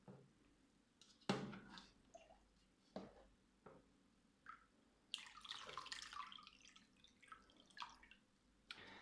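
Water dripping and splashing while large mounted plants are watered, irregular close drips and patters with a longer trickling burst partway through.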